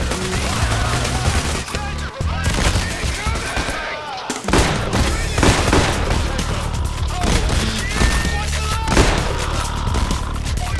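Heavy, relentless gunfire in the video game Payday The Heist, dense bursts and overlapping shots with a brief lull around four seconds, loud and close, while players talk over the din.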